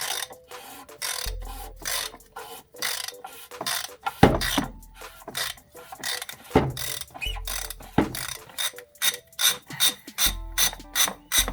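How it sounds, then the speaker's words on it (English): A 24mm socket on a ratchet unscrews the oil filter cap of a Jeep Wrangler JK, giving repeated close ratcheting clicks in bursts with pauses between turns. "you're gonna go ahead and put a 24mm over this and unscrew it like so"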